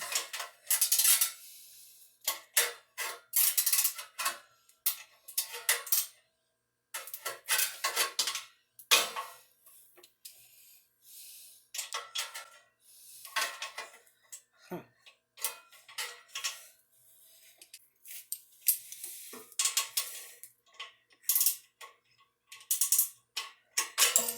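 A ratchet tightens a bolt while a Go Power Sport Stage 1 kit is fitted to a Hisun Coleman CT200-U, with rapid close clicking bursts repeating in short runs separated by pauses.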